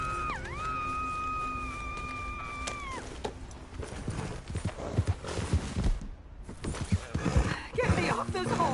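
Rhythmic hoof clip-clops from a horse in Red Dead Redemption 2, with a brief tonal game chime at the start and a voice speaking over the steps.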